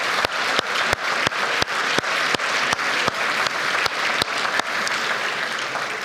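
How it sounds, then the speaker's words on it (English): Audience applauding at an annual dinner and awards evening, steady sustained clapping from a large room with sharper individual claps standing out, loud and continuous throughout. "Please, another huge round of applause, honestly, another huge round of applause for Ruth."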